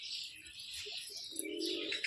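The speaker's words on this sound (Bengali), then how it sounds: "তো দেখো পায়রা দেখো কত সুন্দর পায়রা।" Domestic pigeons, mostly white, kept in a loft give a soft low coo near the end, faint and close, over light chirping and rustling.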